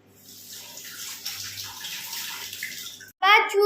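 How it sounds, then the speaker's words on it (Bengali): Fish is rinsed under a running kitchen tap, a steady splashing water stream for about three seconds that stops abruptly, followed by a brief voice. "চলো ঝটপট করে মাছটা ধুয়ে নিই"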